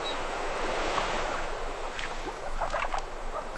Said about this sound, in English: You can hear the sea.